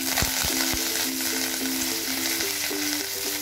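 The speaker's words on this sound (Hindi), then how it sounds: "मस्टर्ड सीड्स हमारे क्रैकल हो गए हैं, इसमें मैं डाल रही हूँ 4 ड्राई रेड चिली, 10 से 12 करी पत्ते" Dry red chilies and curry leaves hit hot oil with crackled mustard seeds during sambar tempering, producing a loud, steady, close sizzle with faint popping and no voices.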